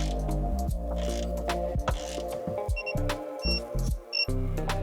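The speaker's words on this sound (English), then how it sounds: "We're gonna go through and tighten those nuts, and the bottom bolt to 59 foot-pounds" Ratchet tightening the rear strut nuts and bottom bolt on a Pontiac Vibe, a run of close, rapid clicking and metallic ticks with brief pauses between strokes and no talking.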